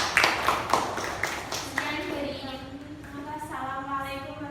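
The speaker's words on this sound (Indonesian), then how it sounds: "Kasih close tepuk tangan untuk kelompok 3." A school classroom of students claps for a presenting group, a few scattered claps at the start that quickly fade, followed by a teacher's voice talking over the quiet room.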